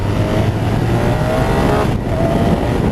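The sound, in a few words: BMW R1250RS motorcycle accelerating in second gear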